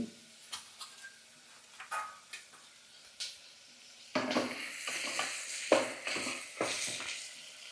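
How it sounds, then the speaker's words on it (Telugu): Potatoes and carrots fry in ghee in a pan, scattered taps and scrapes of a spatula at first, then a louder continuous sizzle with stirring strokes, heard close with no talking. "అలాగే ఆలు కూడా అలాగే క్యారెట్స్ కూడా వీటిని బాగా వేయించుకోవాలి"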